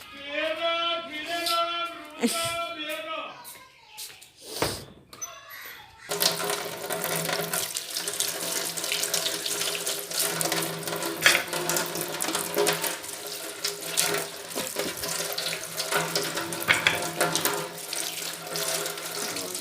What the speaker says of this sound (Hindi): अब मैं इसे धोऊंगी, धो के नमक लगा के फिर खाऊंगी काट के।